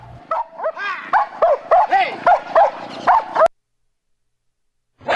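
Police dog barking in a run of about a dozen loud, close barks and yips at a steady rhythm, followed by a sudden silence before the sound resumes at the end.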